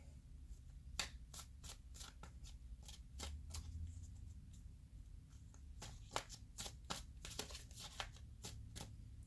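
Tarot cards shuffled by hand to draw a clarifier, a steady run of quick crisp riffling flicks close up over a faint low room hum, with no talking.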